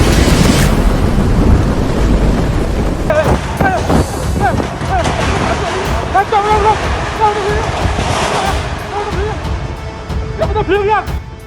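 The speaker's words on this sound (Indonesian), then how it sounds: "Angin puting beliung ngamuk di wilayah Kecamatan Driorejo, Kabupaten Gresik." A whirlwind storm in Driorejo, Gresik, roars with steady heavy wind and rain, loud and continuous throughout, while people talk and shout close by over the din.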